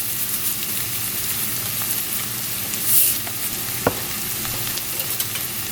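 Beef stroganoff sizzles steadily in a pan while being stirred, a constant close frying hiss with occasional scraping clicks from the utensil and no talk.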